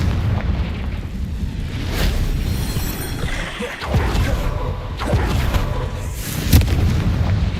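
Repeated booming blasts of the Confringo fire spell in the Hogwarts Legacy game, loud, broad bursts landing at intervals over a dense, continuous rumble of combat effects.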